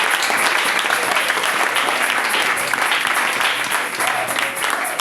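Congregation applauding at a church service to acclaim the Lord, loud sustained clapping from a crowd filling the room, steady throughout with no pauses.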